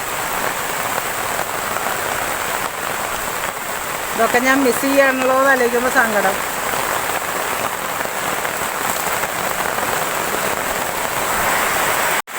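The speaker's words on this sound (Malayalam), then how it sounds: "പാടത്ത് അത്യാവശ്യം നല്ല മഴയാണ്." Heavy rain pours over open fields in a constant dense hiss, close and loud throughout, while a voice speaks briefly partway through.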